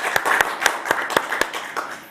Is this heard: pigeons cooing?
no